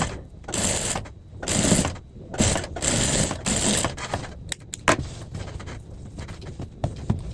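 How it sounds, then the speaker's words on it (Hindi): A sewing machine stitches fabric for dori side fitting in quick buzzing runs of about a second each, separated by short gaps, then gives way to lighter clicks and handling noises. "यहाँ पे देखिए इसके अलावा हम आगे सिंपल सिलाई लगा"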